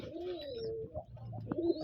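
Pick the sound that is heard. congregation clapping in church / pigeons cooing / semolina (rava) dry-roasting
pigeons cooing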